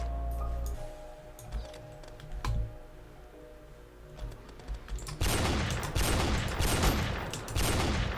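Gunfire in the Roblox video game comes first as scattered sharp shots, then as a dense, loud burst of rapid automatic fire in the last few seconds, with no speech.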